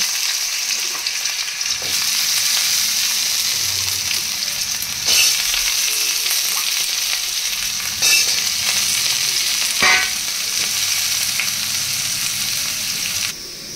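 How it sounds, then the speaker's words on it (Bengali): Loud, continuous sizzle of potatoes frying in hot oil in a kadai, with a few sharp scrapes of a spatula stirring the pan at intervals. "তেল গরম হয়ে গেলে আলুগুলো ভেজে নেব।"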